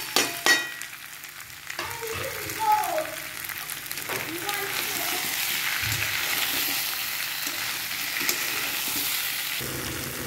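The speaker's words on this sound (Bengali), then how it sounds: "আমার বাটা মশলাটা প্রায় ফ্রাই হয়ে এসছে, কষানো হয়ে গেছে।" A ground spice paste fries for a spicy potato dum, giving a steady sizzle close by with stirring scrapes and a few clinks against the pan, and no talking.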